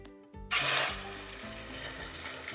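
Freshly ground nut and sesame paste hits hot oil already holding whole spices for a restaurant-style paneer gravy, bursting into a loud, close sizzle that settles into steady frying with faint stirring.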